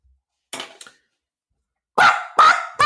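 A dog barking, one light double yip followed by three loud close barks in quick succession, with no other sound.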